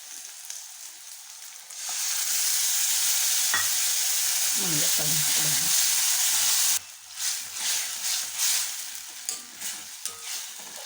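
Tomato paste sautéing in a hot pan for bitter gourd tamarind curry, a loud continuous sizzle and hiss that cuts off abruptly, followed by spoon scrapes and stirring clatter.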